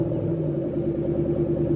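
A 2013 Ford Mustang Shelby GT500 in the Driving Empire game idles just after startup, a short, steady, low engine rumble with no voices.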